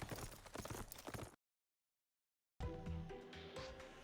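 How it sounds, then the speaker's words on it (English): White horse galloping in a visual novel game, its clip-clop hooves beating in a quick steady rhythm, loud and close, broken by a second of silence before the hoofbeats return over game music. "The white horse I ride with the power of God can outrun them even while carrying me."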